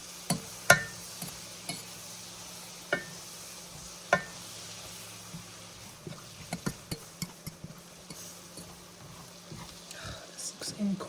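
Food sizzles softly in butter in a pan during home cooking of sausage and mash, a low steady hiss punctuated by scattered clicks and taps of utensils.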